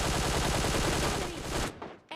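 Dense, rapid gunfire from PUBG Mobile Lite, a loud sustained volley of automatic shots that stops abruptly, followed by a couple of short, fainter bursts.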